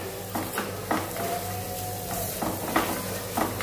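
Garlic sautéing in a pan for homemade cheese garlic bread, a steady soft sizzle with intermittent stirring scrapes and light utensil taps, close and fairly quiet, no talking.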